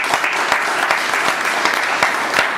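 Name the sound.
round of applause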